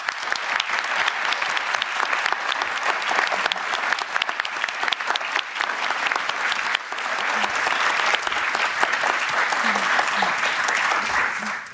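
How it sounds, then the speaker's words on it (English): Award ceremony audience at a global solutions summit gives sustained, dense applause that stays loud and steady throughout with no pauses. "Let's give them all one final round of applause."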